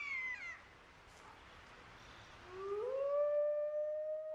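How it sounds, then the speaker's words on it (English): Siberian wolves howl in the wild: a fading, falling howl at first, then after a quiet gap a long rising howl that swells and holds steady, fairly distant over faint background noise. "Howling, the wolf call to arms, gathers the pack and warns other wolves to back off."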